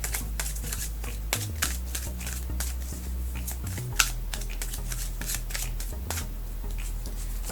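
Oracle card deck being shuffled by hand, a steady run of quick papery riffles and snaps close up, with a low steady hum underneath and no talking.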